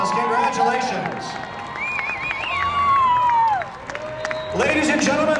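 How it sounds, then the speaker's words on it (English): An audience applauds and cheers for an all-tournament team at a 3rd-place awards ceremony at nationals, with steady crowd clapping over the whole stretch and voices and a few whistle-like tones on top. "Let's give them one more big round of applause."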